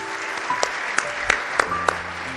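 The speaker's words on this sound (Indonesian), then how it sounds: "Tepuk tangan." A church congregation applauds during a sermon with moderate clapping. A few sharper claps punctuate the sound, and faint sustained tones sit in the background.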